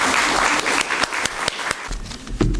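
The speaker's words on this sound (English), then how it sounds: "let's give her a warm applause to bring her up here" Warm audience applause at a talk as a woman is welcomed onto the stage, steady clapping with a few sharp individual claps standing out, fading near the end.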